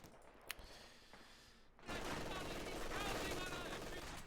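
Sustained machine gun fire in a Company of Heroes-style strategy match during a tournament semifinal, a dense loud burst that starts abruptly after a quieter opening with a few faint shots and commentator talk.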